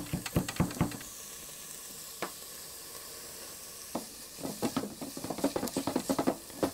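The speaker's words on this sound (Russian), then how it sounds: "обжарю-ка я с чесночком это дело все" Garlic frying in a pan as a base for sprat soup gives a soft, steady sizzle, broken by brief stirring taps and a rising burst of crackling spatter toward the end, close and with no voices.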